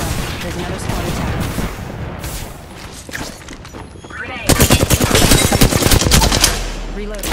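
Rapid automatic gunfire from an Apex Legends match, loud bursts of shots that grow denser and heavier in the second half, with brief game voice callouts over the top.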